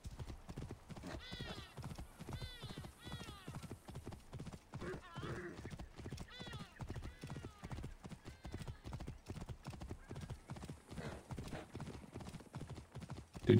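Horse hooves clip-clop in a steady, brisk rhythm in Assassin's Creed Origins, with a faint whinny. The hoofbeats are close and continuous, and someone talks in German over them.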